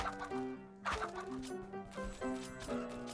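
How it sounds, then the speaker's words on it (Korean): A chicken clucks in Roblox Bedwars: a few short, choppy, rhythmic fowl calls, near and moderately loud, mixed with other game noises. "닭투입"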